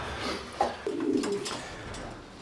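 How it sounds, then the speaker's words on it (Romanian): Pigeons in a racing-pigeon loft give a few soft, low coos close by, short throaty calls over a quiet background. "porumbeii târzii, cât și porumbeii de la Brobeck"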